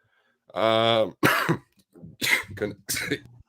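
A person coughs several times in harsh, close bursts, opening with a drawn-out voiced throat-clearing sound.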